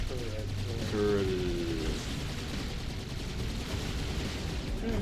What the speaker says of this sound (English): It's my turn to use the turret.